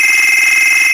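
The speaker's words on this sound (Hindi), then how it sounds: "तो भाई साहब आप सुनेंगे होंगे कितना बेहतरीन रिंगटोन बना है" A custom name ringtone plays on a phone as a loud, steady, high electronic tone with a fast pulsing flutter throughout the second, with no voice heard.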